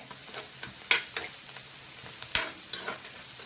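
Fenugreek leaves and onion frying in oil, a soft sizzle broken by several sharp scraping stirs of a spoon in the pan, close and without talk.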